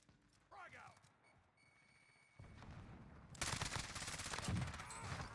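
Gunfire from the FiNN LMG in Warzone's Plunder mode: quiet game ambience first, then from about three seconds a loud, dense stretch of rapid automatic shots that runs to the end.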